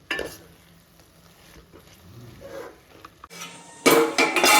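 Cabbage being stirred in a hot pan for a South Indian kootu, with soft scraping and light sizzle through most of the clip, then a louder burst of frying and stirring noise near the end.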